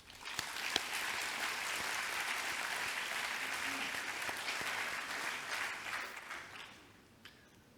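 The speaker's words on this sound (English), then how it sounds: "Let's give her a round of applause." An audience at a graduation ceremony applauds a graduate, steady crowd clapping that holds evenly for several seconds before fading out near the end.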